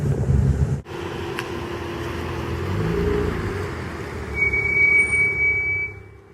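A car driving along a road, a steady broadband rumble of engine and road noise with a thump near the start and a brief high squeal later, no talk.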